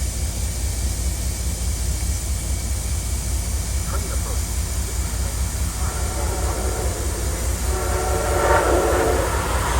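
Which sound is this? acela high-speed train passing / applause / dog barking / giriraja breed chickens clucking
acela high-speed train passing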